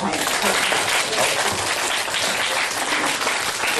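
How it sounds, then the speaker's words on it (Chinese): A crowd claps warmly to welcome a teacher onto the stage at a weekend science show, a dense, steady roar of applause filling the whole moment at full strength. "以最热烈的掌声欢迎！"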